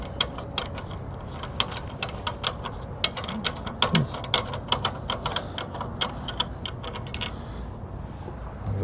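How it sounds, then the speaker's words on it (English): Small metal pin latch on a Hollywood Racks hitch bike rack fitted to a 2018 Ram 1500, giving a run of quick, close clicks and ticks as it is twisted, with no talking. "There's a little pin latch,"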